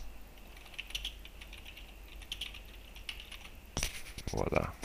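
Keys tapped on a computer keyboard while entering a search phrase, a run of light, irregular clicks at moderate level, ending in a louder burst of several quick strokes.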